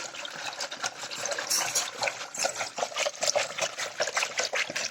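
Water is poured into a vessel in a steady, close trickle and splash that runs without a break for several seconds, with no voices.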